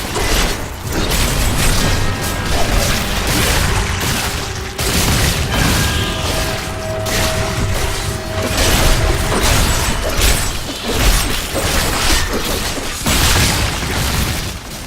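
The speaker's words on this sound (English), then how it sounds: "I also have the corpse explosion, which is going to lay waste to even more enemies." Corpse explosion spell cast by a Necromancer in Diablo 3, heard as a continuous, loud barrage of booming blasts, crunches and shattering impacts, layered over dense game effects with steady intensity throughout.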